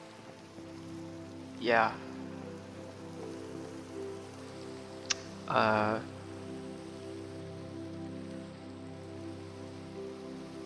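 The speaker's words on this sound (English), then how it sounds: "it's always when you don't want it to rain in Minecraft that it's raining." Steady rain in the video game Minecraft patters continuously at low level, with two short vocal sounds and a single sharp tick over it.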